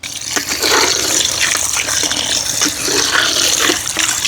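Water gushes steadily into a cooking pot of chicken and potatoes, a continuous close pouring rush lasting several seconds with no talk.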